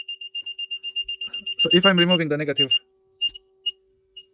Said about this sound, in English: I am getting a slight buzzing, like a light hissing, like a static from the buzzer